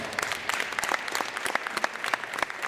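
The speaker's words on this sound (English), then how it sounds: "give her another round of applause" Enthusiastic applause from a school audience in a gym or assembly hall during a hip hop show, brisk and continuous clapping with sharp individual claps standing out, close and full.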